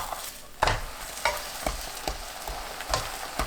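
A dallae jangtteok, a wild chive and soybean paste pancake, fries in an oiled pan with an even close sizzle, while a utensil taps and scrapes against the pan every half second or so and nobody speaks.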